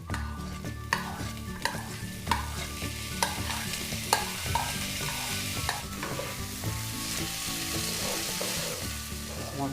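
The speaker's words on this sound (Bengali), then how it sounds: "মশলার সাথে চালগুলো মিশিয়ে নেব।" Soaked rice stirred into spices frying in oil, with a steady sizzle under repeated scraping strokes of a spoon against the pan, close and continuous, alongside a shrimp and potato dish being cooked.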